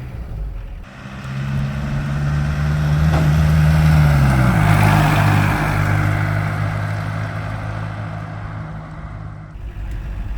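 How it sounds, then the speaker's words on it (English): Volkswagen diesel engine swapped into a Chevy S-10 pickup, heard running steadily from inside the cab with a deep, loud drone and a brief pitch shift midway, no talking. "The little diesel engine actually sounds like a much larger engine."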